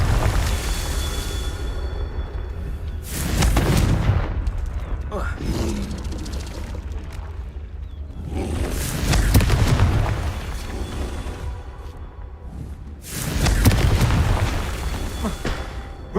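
Repeated fiery blasts from the Confringo spell in Hogwarts Legacy on hard mode, three loud booming bursts spaced several seconds apart over continuous game ambience and rumble.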